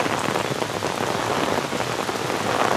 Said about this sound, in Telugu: అంటే విపరీతమైన వాన అని అర్థం